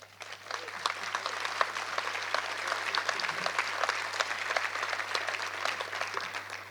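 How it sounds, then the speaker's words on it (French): An audience at the opening of a French professional conference on addiction prevention applauds steadily, a dense run of clapping that swells quickly and holds at a moderate level over a low steady hum. "que je demande d'applaudir"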